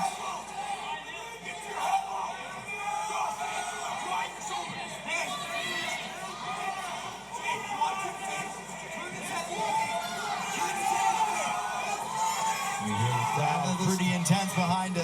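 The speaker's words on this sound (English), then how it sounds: "Pretty intense behind us, cheering their boy on." Crowd at a grappling match, a busy mix of shouts, whoops and chatter rising toward the end, close behind a commentator talking over it.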